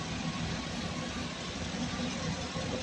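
A 2015 Toyota Camry engine runs steadily at idle during repair work, a constant mid-level hum with faint voices in the background.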